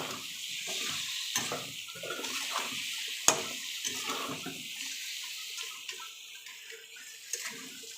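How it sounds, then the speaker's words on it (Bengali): Mutton pieces stirred in a hot pan for a khashir mangsho curry, a continuous sizzle and frying hiss with soft scrapes and clinks of the spoon throughout. "এবার মাংসটাকে একটু নাড়তে থাকবো।"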